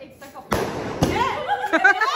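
Diwali firecrackers burst in sharp loud bangs, two big cracks about half a second apart followed by smaller pops and crackle, with excited people talking over and between the explosions.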